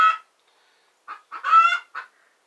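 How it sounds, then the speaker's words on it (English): A small stray chicken clucking close by, a short cluck followed by a quick run of three or four soft clucks and a brief trill, alone with silence between. "found little chicken"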